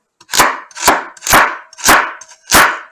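A knife chops carrots on a cutting board in five loud, crisp strikes at an even, unhurried rhythm, each with a short sharp attack and quick decay, close up and without talk.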